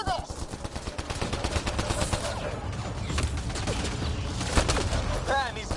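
Sci-fi video game battle: rapid bursts of automatic gunfire and explosive cracks overlap densely, close and loud throughout, with a voice shouting in the mix.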